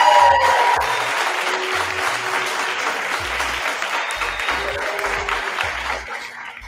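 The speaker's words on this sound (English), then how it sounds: "So give him a round of applause, please." Applause from a class audience during a podcast lecture, a broad, sustained wash of clapping with a few low thumps, loud and continuous before tapering off near the end.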